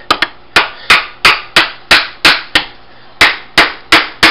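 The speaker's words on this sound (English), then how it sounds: "I have a hammer, fiberglass handle." Sharp, regular hammer blows from a fiberglass-handled hammer strike metal engine parts, loosening them, about a dozen loud impacts in quick rhythm with a brief pause midway.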